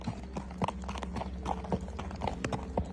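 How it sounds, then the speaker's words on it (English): A horse's hooves clip-clop in a steady, even rhythm as it is ridden through dusty open country in the heat, the hoofbeats fairly quiet and close with no talking. "Soto's on horseback riding through open country."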